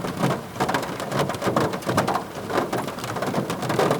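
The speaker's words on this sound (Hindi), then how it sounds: "it's raining here in Manali right now" Heavy rain in Manali drums steadily on a car's roof and windows, heard from inside the vehicle as a dense, continuous patter with no pause.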